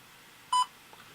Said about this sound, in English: press and hold the function button at the rear of the aircraft until you hear a beep